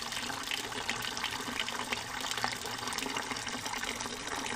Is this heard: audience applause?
no